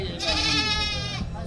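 At a temple, a goat gives one long, wavering bleat close by, heard over a steady low background hum and murmur.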